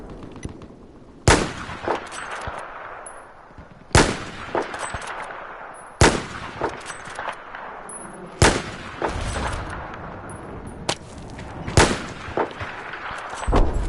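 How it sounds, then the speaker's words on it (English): Heavy gunfire in a Battlefield 4 battle on PS4, with hostile machine gun fire among it: five or six loud, sharp blasts at spaced intervals, each trailing into a rumbling echo, with lighter scattered shots in between. "have eyes on hostile machine gun just north of your position"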